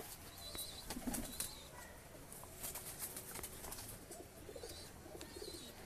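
Caged pigeons in separate breeding cages at a high-flying pigeon loft, including Lakka and Giribaz males, coo softly and faintly against a quiet, noisy background.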